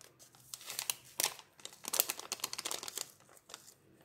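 A packet of baking powder being torn open and poured out, heard as close, dry crinkling and rustling of the paper sachet in quick irregular bursts, with no talking.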